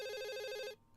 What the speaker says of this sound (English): That's the sound of a phone at your home, an old one.